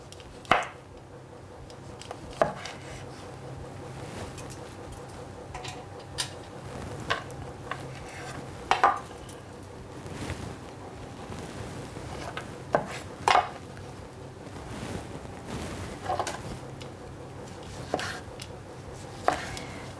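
Figs are sliced with a knife on a board, producing sparse, sharp taps of the blade at irregular intervals over a quiet background, close and without speech.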